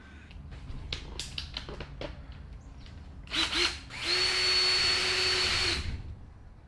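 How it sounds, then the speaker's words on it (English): A few light knocks and clicks, then a power drill whines at a steady high pitch for about two seconds into the cranium of an animal trophy skull, close and loud, before stopping. "That's where you want to drill."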